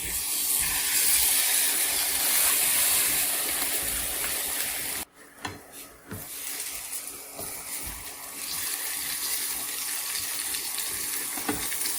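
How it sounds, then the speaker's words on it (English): Salmon fillets sear in hot avocado oil in a pan, giving a steady close sizzle and hiss that drops briefly midway as the fish goes in, then builds back to a constant fry. "Oh, this pan is ready, so I'm gonna just add the salmon immediately."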